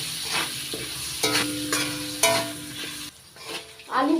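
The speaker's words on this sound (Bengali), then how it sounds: "নাড়াচাড়া করে আলুটা ভেজে নেব।" Potatoes fry in a pan with salt and turmeric, a soft sizzle broken by a few clattering stirs and scrapes of a utensil, close by and without talk, for a banana-flower and shrimp dish.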